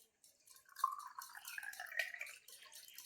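Ganges water mixed with plain water is poured from a small pot during an Itu puja offering, making a faint, soft trickle and light dripping that lasts a few seconds.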